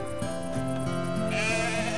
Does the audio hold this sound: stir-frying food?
no